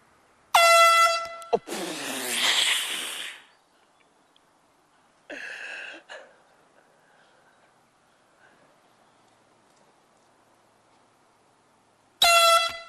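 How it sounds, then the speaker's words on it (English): Loud air horn blasts on a golf course go off three times, a long blaring honk first, then two shorter ones, separated by quiet gaps. "we're going to blow these air horns"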